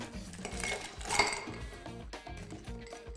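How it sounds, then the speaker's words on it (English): Ice cubes clatter and clink into a glass or Boston shaker tin for an Earl Grey martini made with honey, a close run of rattling knocks with no voices. "And then we're going to fill it up with ice."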